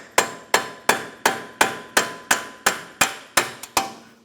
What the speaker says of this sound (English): Hammer and punch right in the center here.